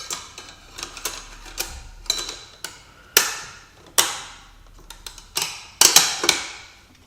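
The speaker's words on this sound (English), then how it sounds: "finally I have to secure this whole assembly with the snap ring." A stiff snap ring is worked into place in a ZF 6HP26 automatic gearbox from a Jaguar S-Type. The close metallic clicks and ticks come in an irregular series of sharp taps, with no talking.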